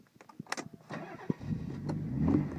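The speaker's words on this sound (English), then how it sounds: "Press the start button," Nissan 300ZX started with a push button: a few clicks, then the starter cranks briefly and the engine catches, settling into a steady, rising idle close to the microphone.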